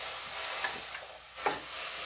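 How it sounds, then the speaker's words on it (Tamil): Ground urad dal batter stirred into boiling water over medium heat, a soft steady hiss and bubbling with a few brief scraping strokes, close and alone. "இப்போ நல்லா கிண்டி வச்சுக்கோங்க."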